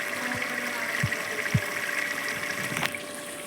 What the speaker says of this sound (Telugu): కూరకు సరిపడా 3 గిలాసులు నీళ్ళు పోసిన